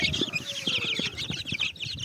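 Roosters and hens cluck and crow in quick, overlapping calls, close by and fairly busy.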